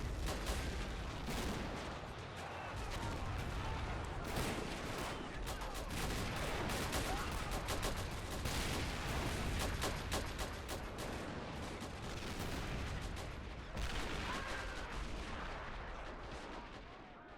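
Relentless artillery barrage in the WW1 game Great War Realism, shells booming and rumbling almost continuously with crackling gunfire mixed in, a dense, loud battlefield din for the whole stretch; faint voices occasionally under it.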